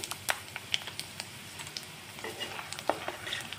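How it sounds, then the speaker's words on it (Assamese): Panch phoron spices sizzling in hot oil after fried peanuts in a wok: soft continuous sizzle punctuated by sharp crackles and stirring clicks, close and fairly quiet. "এতিয়া দি আছোঁ অলপখিনি পাঁচফোৰণ"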